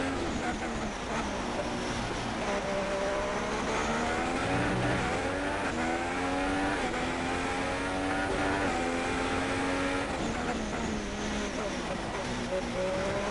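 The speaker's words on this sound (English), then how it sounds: "Very cautious, blipping the throttle through these corners." A race car in a racing video game at Bahrain, its engine rising and falling as the throttle is blipped through corners, loud and continuous under a commentator's talk.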